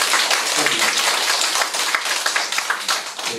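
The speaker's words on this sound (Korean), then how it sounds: "박수 한번" An audience at a religious lecture breaks into a round of clapping, a dense patter of hands with sharper individual claps standing out, fairly loud and close, with a voice briefly heard over it.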